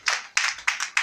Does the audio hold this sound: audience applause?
yes